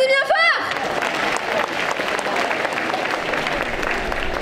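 Audience applause at a Saturday cosplay parade at Quimper Japan Manga Wave 2024, a steady dense wash of clapping from a crowd that follows a brief rising tone at the start and continues evenly throughout.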